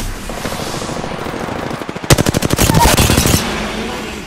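Rapid automatic gunfire from the video game Apex Legends rattles out in a loud, tight burst of evenly spaced shots, close and punchy over a steady game background.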